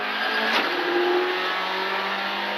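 A Skoda Fabia Rally2 Evo rally car pulls away from the start at Slovakia Rallye Tatry, its engine note rising steadily as it accelerates, heard from inside the car without talk.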